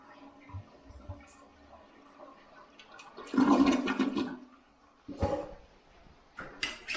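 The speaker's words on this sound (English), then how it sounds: "Get as much water out of the toilets as I can." A house toilet flushes and drains during winterizing, a loud rushing swirl of water that surges, fades, then returns briefly, with faint dog whimpers and small knocks around it.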